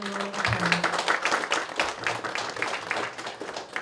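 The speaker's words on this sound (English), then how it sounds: "Everybody give her a round of applause." A small crowd claps for a woman at a community center grand opening, giving a short burst of fairly quiet, even applause.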